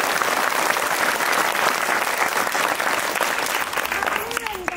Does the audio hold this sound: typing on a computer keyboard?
no